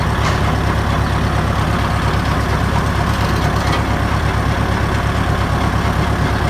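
A farm tractor's steady, loud diesel engine rumbles and idles continuously, close by on a cattle farm, with a constant low throb and no talk over it.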